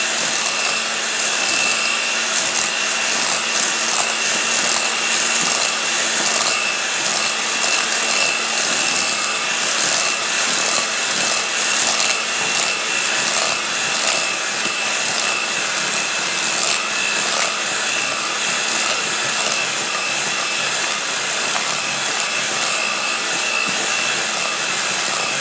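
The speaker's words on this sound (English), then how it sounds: "Plug this mixer up." Electric mixer beating coconut pound cake batter, a loud, even motor whir with a gritty hiss that holds steady and unbroken throughout, with no talking over it.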